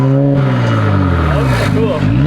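A Nissan 400Z with a newly installed single-exit exhaust revs up close and loud. The engine note sweeps down and back up in pitch, and a voice talks over it briefly.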